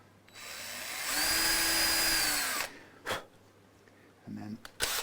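Power drill bit widening a screw hole on a Fender Telecaster Player series guitar, one steady whining run of about two seconds, close and loud, then brief handling clicks.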